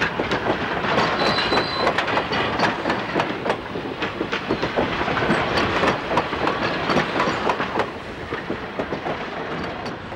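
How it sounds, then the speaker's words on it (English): An Amtrak passenger train rumbles past steadily, wheels clattering over rail joints with occasional squeals, loud and close throughout. "This is an Amtrak train"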